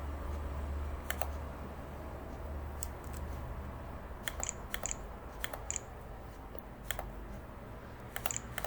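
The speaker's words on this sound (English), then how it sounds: "here you need to type your name" Someone types a name on a computer keyboard, with quiet scattered key clicks in short bursts over a low room hum and no talking.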